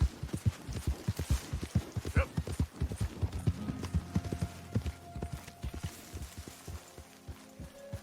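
Horse hooves clip-clop on the ground in the video game Red Dead Redemption 2, a quick, steady run of close hoofbeats that slows and fades toward the end.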